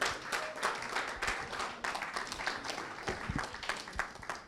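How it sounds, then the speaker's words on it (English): Conference audience clapping to welcome a speaker onto the stage, a moderate, uneven patter of applause from a room of people, steady throughout without cheering. "Keep the clap coming now."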